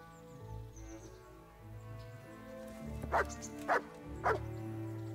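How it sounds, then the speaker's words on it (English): A dog in the medieval video game Kingdom Come Deliverance gives three short, evenly spaced barks and soft whimpers over quiet background music, with no one speaking. "There's the good doggy."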